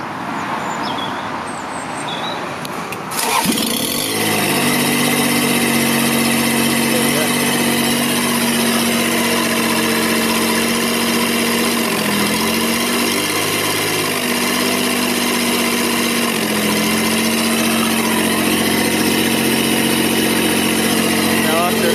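A Kubota diesel engine driving a 12V alternator generator rig cranks briefly and then catches, settling into a steady, loud, close idle that holds with slight wavering for the rest of the clip.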